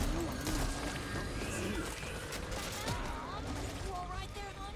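Gunfire in the video game Back 4 Blood crackles in rapid bursts across a busy, dense mix, with voices talking over the shooting throughout.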